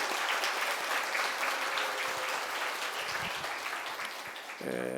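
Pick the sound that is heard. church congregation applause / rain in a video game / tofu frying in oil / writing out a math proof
church congregation applause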